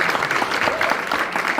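Audience at a stand-up comedy show at a cinema cafe in Minnesota applauding steadily, a dense wash of clapping from a moderate-sized crowd heard alone with no speech over it.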